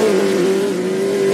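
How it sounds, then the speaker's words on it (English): A race car in a sim racing game spinning out during a close fight for the lead, a steady loud engine drone holding a sustained tone throughout with faint tire noise underneath, no talk. "He just spun right in front of the 20."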